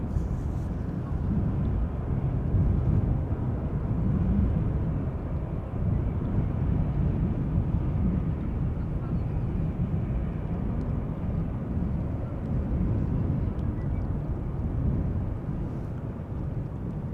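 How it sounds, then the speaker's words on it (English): Norwegian passenger jet arriving from Stockholm at Amsterdam Schiphol Airport, a steady low broadband roar rumbling on without a break, fairly distant and with no voices. "flight 84533 arriving from Stockholm"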